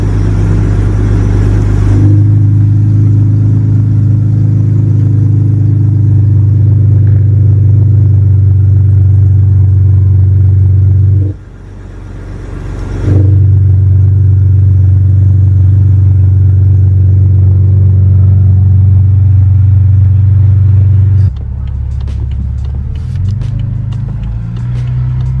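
A BMW F10 cold start: a loud, close engine catches and settles into a heavy, steady high idle, drops briefly around the middle, then resumes and eases to a lower idle near the end.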